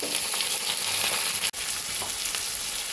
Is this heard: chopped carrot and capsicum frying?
yes